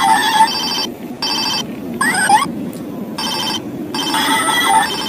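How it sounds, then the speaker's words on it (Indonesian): Toy telephone ringing in repeated electronic bursts, each lasting under half a second with short gaps, bright and close, over a faint background murmur. "ini ada telepon"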